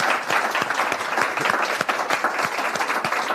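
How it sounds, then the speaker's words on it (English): An awards-ceremony crowd at a charity volunteer event claps in a sustained, moderately loud round of applause, individual hand claps audible within the dense wash. "let's just give them a round of applause"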